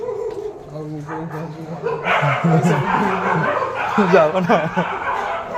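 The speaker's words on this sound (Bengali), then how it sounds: "নিচে কুকুরগুলো ডাকছে" Dogs bark and yip from below in the early morning in Andaman, the sharp calls overlapping with nearby voices talking.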